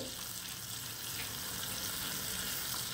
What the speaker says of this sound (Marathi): बटर विरघळलंय तर आता किसलेलं लसूण घालते.